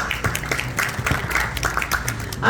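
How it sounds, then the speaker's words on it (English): A round of applause at a Pakistani business forum gathering in Houston, with uneven clapping from the audience running throughout and swelling near the end. "Round of applause."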